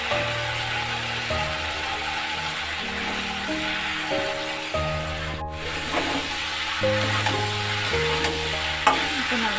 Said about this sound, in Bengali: এখন আমি লাউর সাথে মশলাটা মিশিয়ে দিচ্ছি